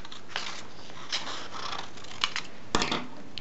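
Scissors snip through paper while paper letters are cut out, several short, close crisp cuts spaced irregularly, with the last ones the loudest.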